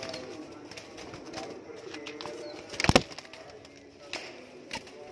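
Teddy pigeons coo softly in a loft or yard, with low murmuring calls, a sudden burst of wing flapping partway through and scattered small clicks and movements nearby.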